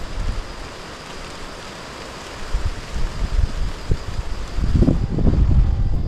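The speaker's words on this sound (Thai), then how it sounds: "บรรยากาศงามๆสายลมพัดเย็นเบาๆ" A gentle, cool morning wind blows by the Xe Pon river in Salavan province, Laos, buffeting the microphone in soft, irregular gusts that grow stronger toward the end.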